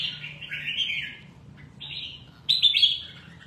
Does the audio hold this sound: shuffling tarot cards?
no